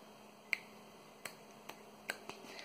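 Six crisp finger snaps at a close distance, spaced irregularly over a couple of seconds in a quiet room with a faint steady background hum.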